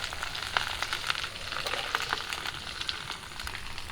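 Fish and potatoes cooking on a banana leaf under a lid bubble and sizzle steadily, with small irregular popping crackles over a constant close hiss and no speech.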